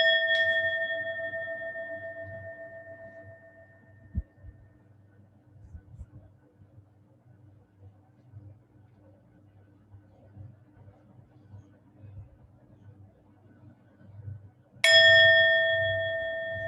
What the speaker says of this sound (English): And a bell sounds like this.